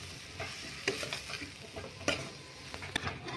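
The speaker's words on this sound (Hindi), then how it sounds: "सो फ्रेंड्स हम आलू को अच्छे से मिक्स कर लेंगे।" Mashed potatoes are stirred in a frying pan with tomato, green chili, salt and chili, giving a steady background sizzle with scraping spoon strokes recurring at irregular intervals, close and fairly quiet.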